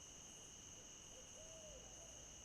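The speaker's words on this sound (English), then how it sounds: "I don't know if you can hear that owl" An owl hoots softly at night beside the Wacissa River at a kayak campsite, a single faint, distant call over a constant high drone of insects.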